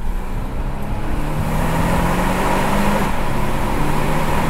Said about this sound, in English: I wonder what it sounds like if we go windows down in the tunnel with this funky powertrain.